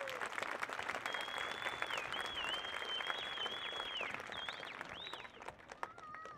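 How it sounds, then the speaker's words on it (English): Crowd applause at a junior high school promotion ceremony, steady clapping from many hands heard at moderate distance, with whistles rising over it throughout. "A round of applause for them,"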